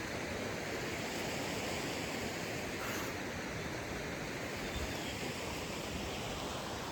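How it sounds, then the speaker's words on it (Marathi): A muddy river swollen after rain in the Konkan countryside at evening, rushing with a steady, dense roar that stays even and close throughout, with no voices. "पाण्याचा आवाज, पाणी बघ किती गढूळ आहे"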